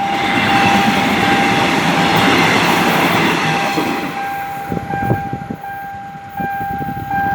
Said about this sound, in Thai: ครับอันนี้กำลังจะเข้าสู่สถานีรถไฟบ้านปิ่นนะครั